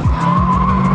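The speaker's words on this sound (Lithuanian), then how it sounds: "Nes iš tikrųjų pagalvojau vienu metu, kad versimės, nes mašina labai stipriai sumėtė." A car skids hard on a slippery surface, a loud, close tire squeal with a strained engine tone running through the whole brief moment.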